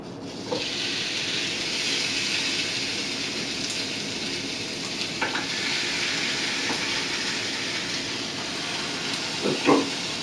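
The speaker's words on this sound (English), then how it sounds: "George Foreman doesn't take long because it fries it on both sides." Buffalo T-bone steaks fry on a George Foreman grill with a steady, close hiss and sizzle throughout, broken by a few brief clinks and taps near the end.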